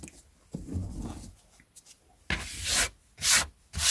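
Rubber eraser scrubbing ink off a vintage Penguin paperback, close, irregular bursts of dry rubbing and scratchy friction with brief pauses between strokes.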